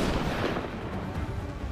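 Weapon fire in the sci-fi shooter Mass Effect Andromeda, a dense, loud burst of booming shots and blasts filling the whole moment without pause.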